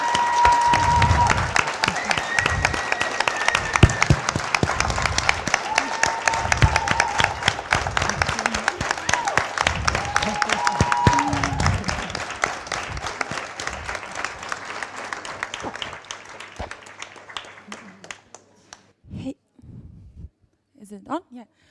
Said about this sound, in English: Please give a big round of applause for these women